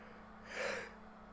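A single person yawning, one drawn-out breathy exhalation swelling and fading over about a second, close and quiet against faint background hum.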